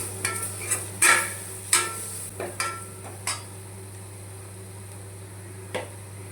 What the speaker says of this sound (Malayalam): ഉപ്പ് ഇട്ട് കൊടുക്കുക അതിന് മല്ലിപ്പൊടി എല്ലാം കൂടെ ഒന്നുകൂടെ നല്ലപോലെ ചിക്കി എടുക്കുക